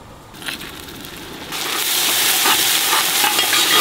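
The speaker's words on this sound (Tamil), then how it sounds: "இந்த இஞ்சி பூண்டு பச்சை வாசனை போகிற வரைக்கும் லைட்டாக நம்ம வதக்கிக்கலாம்" Ginger garlic paste sizzles in hot oil, a soft frying hiss that swells louder and steadier after the first second as it is stirred.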